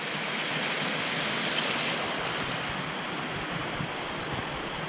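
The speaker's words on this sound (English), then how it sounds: "There's a nice wee waterfall there." Small outdoor waterfall in a country park, a steady close rush of falling water that stays even and broadband throughout, with no voices over it.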